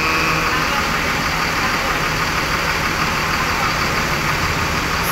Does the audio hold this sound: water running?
no